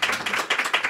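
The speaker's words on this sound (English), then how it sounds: "I'd like our audience to please give our panel a big round of applause" Quiet hand clapping from a small audience thanking a podcast panel, a brief burst of distinct, uneven claps in quick succession.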